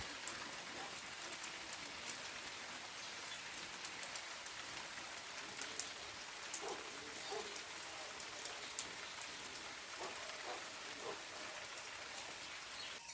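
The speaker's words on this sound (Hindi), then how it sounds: "आज सुबह से लगातार बारिश होती जा रही है" Continuous heavy rain falling in a hilly rural area, a dense, unbroken hiss of drops on surfaces that stays even and steady throughout, with no voices.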